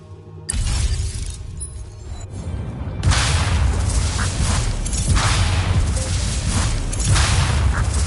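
Frag fire spell from Immortals of Aveum: a sudden burst at about half a second, then a louder, sustained crackling barrage of bright explosive bursts rolling on until the end, loud and close.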